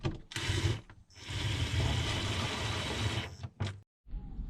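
A hand ratchet turns steadily and close by as a part is screwed back on after cleaning a boat's diesel tank, with repeated clicking bursts broken by short pauses.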